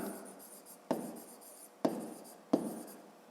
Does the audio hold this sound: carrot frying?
no